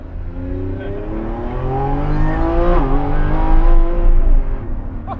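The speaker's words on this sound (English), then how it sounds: "It's a Lamborghini Revuelto. It's the Aventador replacement." A Lamborghini Revuelto's engine climbs through a long rising rev, loud and close, with harmonics sweeping upward and a brief gear-like dip before building again and easing off.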